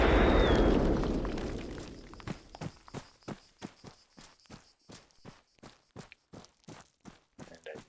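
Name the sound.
landmine detonating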